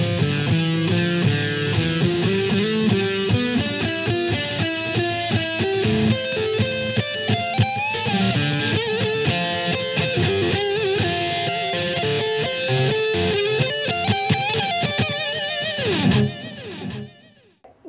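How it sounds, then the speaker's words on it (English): A Daisy Rock Stardust Elite electric guitar plays a busy lead solo with a tapped, single-coil-style tone, dense quick runs and bends over about sixteen seconds, loud and alone before cutting off abruptly. "Now when you tap the pickup, that gives you a more single coil sound, so you can also do your lead solos."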